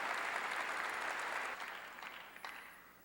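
A church congregation claps together during a Korean sermon, a busy, fairly distant patter that thins and fades out after a few seconds.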